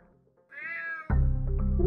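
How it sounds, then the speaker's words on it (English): A cat meows in the video game unMETAL, one drawn-out, rising and falling meow, close and clear, followed by a loud low rumble of game sound or music. "Damn cat."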